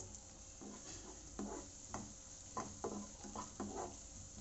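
Onions sautéing in a pan for spicy mutton chukka, a low sizzle broken by repeated scraping strokes of a spatula against the pan at an uneven rhythm, close and without talk.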